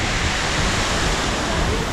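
A waterfall in Iceland roars as a loud, steady broadband rush of falling water, continuous and close with no breaks.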